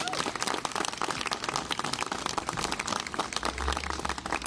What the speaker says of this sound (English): Just give yourselves a big round of applause.